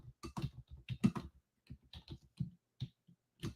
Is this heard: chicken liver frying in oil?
no